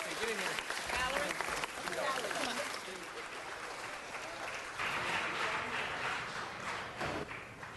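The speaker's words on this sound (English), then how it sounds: "Let's give them all a round of applause, ladies and gentlemen." Applause from an audience at a city council meeting, a broad steady patter of clapping lasting several seconds, with voices talking and calling out over it.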